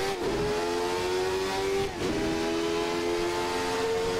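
A Jordan 191 race car in a racing game accelerates hard onto the start-finish straight, its engine a loud steady high-pitched scream that briefly dips with an upshift.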